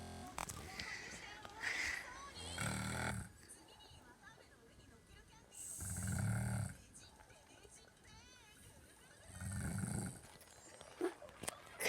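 A drunk mother snores in three loud, rough, drawn-out bursts spaced a few seconds apart, with quieter breathing and faint background sounds in between.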